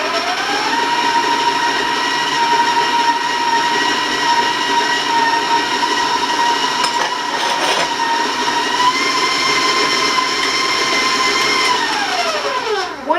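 Electric mixer beating a cup of granulated sugar into cookie dough, a loud, steady mechanical whine with a sustained pitched tone that holds throughout, briefly shifting midway and winding down at the end.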